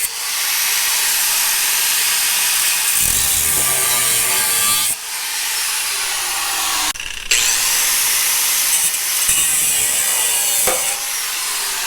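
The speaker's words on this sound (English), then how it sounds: "Take a grinder and cut on our lines." An angle grinder cuts through welds on a bent 1967-69 Camaro subframe, a loud continuous bright hiss with brief dips and restarts as the disc bites and lifts off the steel.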